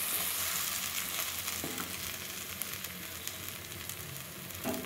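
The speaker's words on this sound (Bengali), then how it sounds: "আলুগুলো কিন্তু পুরো মশলার সঙ্গে কষা হয়ে গেছে, তেলটাও ছেড়ে দিয়েছে।" Potatoes fry in oil with a thick spice masala for an egg curry, a steady close sizzle and crackle that carries on without pause, with a soft stir or scrape now and then.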